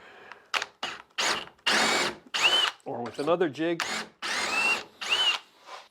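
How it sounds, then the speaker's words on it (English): A power drill with a half-inch bit in a doweling jig bores into wood in repeated short bursts, whining and biting, with someone speaking briefly between them. "I'm using my doweling jig this time with a 1/2-inch drill bit"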